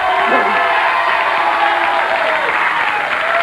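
A studio audience on a late-night talk show applauds and cheers, a loud, dense wash of clapping and voices holding steady throughout.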